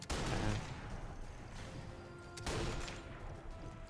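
Gunfire in the Sniper Elite 4 video game: two sharp, loud shots about two seconds apart, each followed by a rumbling tail, standing alone without talk.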